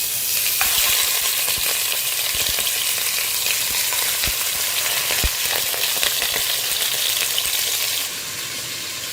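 Beef shank pieces with bone marrow fry in a pot of oil with melted mastic, giving a loud continuous sizzle with scattered crackles and pops and occasional clinks of a utensil, with no talking.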